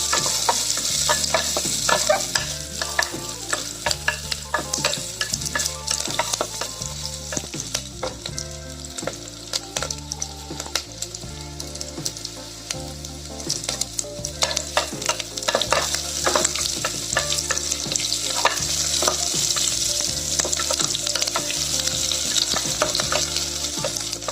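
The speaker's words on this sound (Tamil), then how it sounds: "நல்லா வெங்காயம் வதங்கினாதான் ஸ்மெல் வரணும்." Sliced onions sautéing in a pan for vegetable biryani, a continuous close sizzle broken by the regular scrape and knock of a spoon stirring, with no talking.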